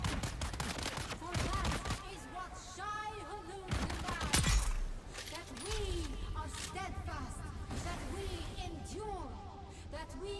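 Gunfire in the game Dune comes in quick crackling volleys and single sharp cracks, mixed with chirping effects and with speech running alongside.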